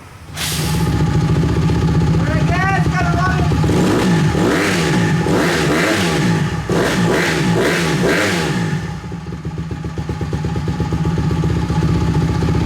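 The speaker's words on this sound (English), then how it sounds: "these little CRF-150s are just crazy freaking loud" A Honda CRF150 small dirt bike engine starts and revs loudly, with rising and falling blips of throttle over a steady idle, very close and dominant.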